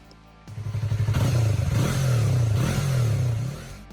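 A Yamaha MT-03 naked sport bike with a high-revving engine starts and climbs in loud, close revs, a pulsing idle rising into a sustained, wavering roar that eases off at the end.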